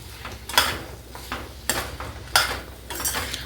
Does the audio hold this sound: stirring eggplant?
yes